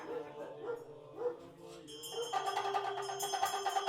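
Stray dogs in Dharamsala, India, give a few short, yelping barks near the start, and then bright, steady music rises and carries on to the end.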